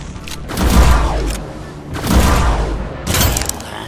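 A double-shot weapon fires in the tactical game Mutant Year Zero: Road to Eden, heavy booming gunfire volleys that swell and fade, three loud bursts in sequence.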